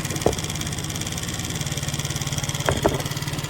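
Small BT49QT-7 scooter engine, crashed and abandoned, idling steadily with a fault that stops it from shutting off at the key; a close, even putter with a few sharp clicks mixed in, no talk.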